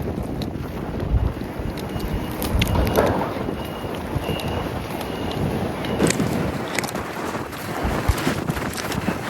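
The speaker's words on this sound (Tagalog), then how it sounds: "Medyo malakas nga lang yung hangin." Strong wind at a fishing spot roars across the microphone as steady, dense, rumbling buffeting with gusty surges, loud and continuous, with no voices.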